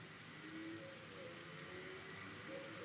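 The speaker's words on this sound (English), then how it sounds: "Sounds like rain." Steady, soft rain in the video game Rain Code patters continuously on a surface, with a faint low hum underneath and no voices.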